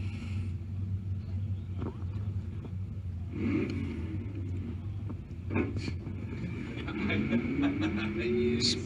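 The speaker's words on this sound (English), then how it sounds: "Spinning the tires." Drag race cars, a GTO and a big Ford, spin their tires at a drag-and-drive event, a sustained engine rumble with rising revving surges and bursts of tire noise, heard at a distance with crowd ambience.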